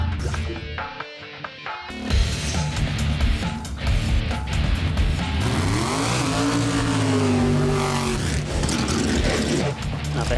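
A 1968 Six Pack Barracuda at a drag strip roars loud and close through a full pass, engine pitch climbing and sweeping through gear changes, with a brief quiet moment before the sustained mechanical roar takes over.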